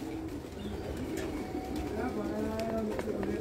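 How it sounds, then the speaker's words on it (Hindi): Soft cooing from a Jethiya pigeon mingles with other birds chirping in a busy, noisy background, low murmuring coos recurring throughout. "ये मेरे हिसाब से एक जेठिया कबूतर है"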